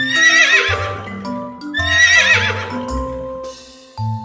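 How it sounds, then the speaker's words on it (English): A horse lets out two loud, shrill whinnies, each a long quavering cry, set against light background music. "I neigh. This is my sound."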